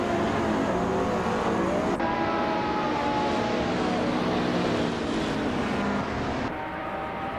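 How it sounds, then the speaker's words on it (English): A pack of street-class race cars including a Lotus 211 roars steadily at Sochi Autodrome, engine tones overlapping and shifting pitch as they pull away in a loud, continuous drone. "The race is starting now at the Sochi Autodrome track, with the combined street cars class"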